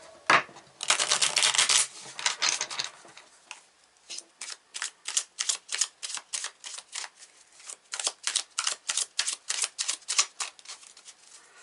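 Tarot cards are riffled and shuffled repeatedly: a dense flurry first, then a steady series of quick crisp riffles, close by and with no talking.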